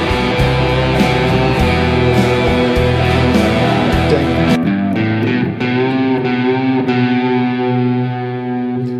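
An overdriven electric guitar plays a sustained, effects-laden phrase from the On the Turning Away solo, loud and continuous with bends and held notes ringing out near the end, no talking.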